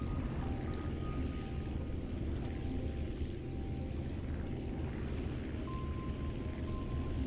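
Airplane engine drone in the flight game Aviassembly, a steady broadband hum with a faint whistling tone that runs evenly throughout, no voices.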